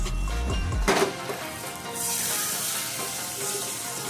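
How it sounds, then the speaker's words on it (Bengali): Gola roti, a batter roti cooked in a kadai over a bed of salt, gives a soft, continuous sizzle at close range, with a brief scraping knock near the start. "গোলা রুটি তৈরি হচ্ছে।"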